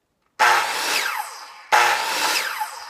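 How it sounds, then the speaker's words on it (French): A circular saw spins up twice, each burst starting abruptly with a loud whine and holding briefly before cutting off; the saw is faulty. "ma fameuse scie circulaire, là, regarde, écoute bien ce que ça fait"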